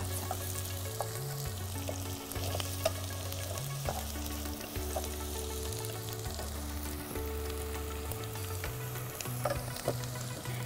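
Onions and two chillies frying in a pan, a steady close sizzle running beneath background music with a stepping melody.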